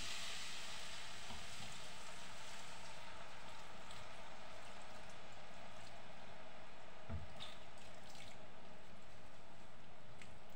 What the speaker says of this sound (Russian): Добавляю бульон с майонезом